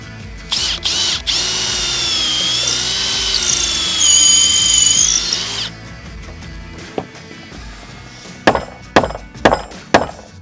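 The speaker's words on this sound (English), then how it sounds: "drilling through a bit of steel" A power drill bores steadily through wood and steel for several seconds in a building workshop, its whine rising and falling, followed by a few sharp knocks and clatters.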